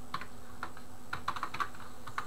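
Code being typed on a computer keyboard in a steady run of crisp, close keystrokes, several in quick succession, alone without speech.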